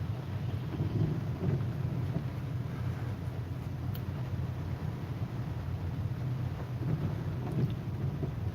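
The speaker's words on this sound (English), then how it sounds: "Yeah, getting pretty good rain here." Steady rain on a cold rainy day with low rumbling thunder underneath, a continuous moderate wash of sound without speech throughout.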